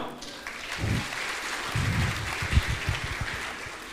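An audience applauds at a university orientation program, a sustained wash of clapping from a crowd that continues for the full few seconds at moderate volume.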